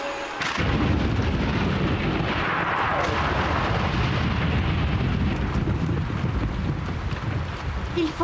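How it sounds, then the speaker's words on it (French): Thunder rolls through a thunderstorm in a French children's cartoon, a loud, sustained rumbling roar that fills the whole stretch after a brief quiet opening. "Il faut laisser passer l'orage, Yakari."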